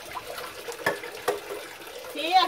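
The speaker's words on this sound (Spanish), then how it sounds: "Mire, Caro, le voy a echar agua yo para que usted lo vaya lavando" Water poured out for washing something by hand, a steady splashing trickle with a brighter gush near the end, close by.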